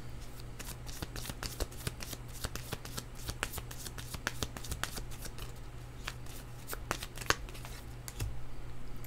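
Tarot cards riffled and shuffled by hand in a run of quick crisp bursts, fairly close and alone, with a low steady hum underneath.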